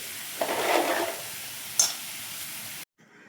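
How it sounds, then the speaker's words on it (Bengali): Bori, small dried lentil dumplings, fry in hot oil in a wok with a soft, steady sizzle, a brief louder crackle partway through, then a sudden cut to near silence. "প্রথমে ভেজে নেবো কয়েকটা বড়ি।"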